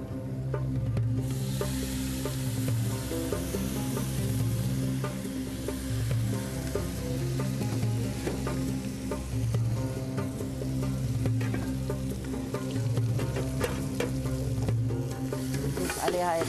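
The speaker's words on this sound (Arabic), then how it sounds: "الحين حمرنا البصل" Onion and garlic frying in fat in a pot, a steady close sizzle with a crackling, bubbling texture that runs without a break for the whole stretch, with no voices.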